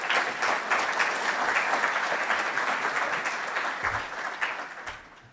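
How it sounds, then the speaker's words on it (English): An audience gives Auckland Mayor Phil Goff a warm round of applause, thick, continuous clapping that gradually fades out in the last seconds. "A round of applause."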